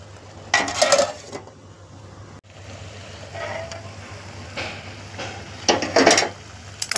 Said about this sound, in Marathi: आणि पुन्हा झाकण ठेवून देऊ।